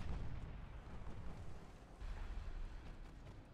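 Heavy naval guns boom in the warship video game Ultimate Admiral Dreadnoughts, as dense, continuous low rumbling battle fire with overlapping blasts for the whole stretch, loud and alone without talk.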